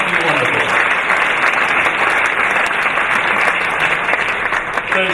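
Loud, dense applause from an audience at a charity auction evening, steady and sustained throughout without a break.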